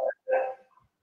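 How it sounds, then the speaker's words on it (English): A dog gives a couple of short, faint barks in the background over a call line, brief yips with silence between. "I don't know who has dogs barking in the background"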